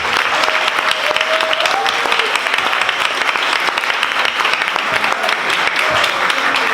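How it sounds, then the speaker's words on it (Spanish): An audience at a science café talk on language applauds the panelists, steady dense clapping filling the whole stretch with a few voices calling out underneath. "también un aplauso a nuestros panelistas"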